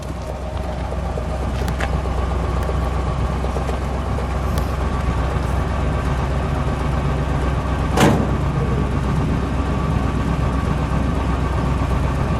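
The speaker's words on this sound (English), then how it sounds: "I'll just listen to the exhaust note for a moment." A 1958 DeSoto Firesweep V8 engine idling steadily with a low, rumbling exhaust, constant and close, with a single brief click partway through.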